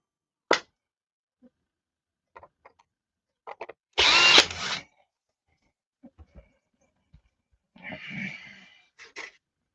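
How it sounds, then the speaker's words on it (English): A power drill bores screw-clearance holes for landing gear mounts in one short loud burst, with scattered clicks and handling noises around it and a softer rough buzz near the end. "I'm going to drill them holes for the screws to clear."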